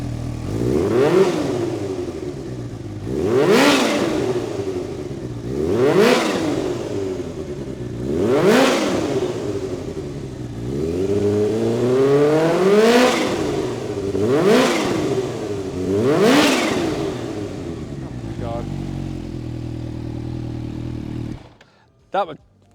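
A supercharged Kawasaki Ninja H2 motorcycle with a loud aftermarket exhaust revs hard about seven times, each rise climbing to a roaring whine before dropping back to a rumbling idle, then cuts off.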